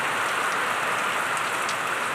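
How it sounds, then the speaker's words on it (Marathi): Heavy rain in the Konkan region falls in a dense, even roar of drops pattering on surfaces close by, with no talk. "खूप पा पाऊस पडतोय बघा आणि हे बघा आला पाऊस जोराचा पाऊस आहे"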